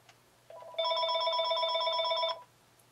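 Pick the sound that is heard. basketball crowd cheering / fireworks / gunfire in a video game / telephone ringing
telephone ringing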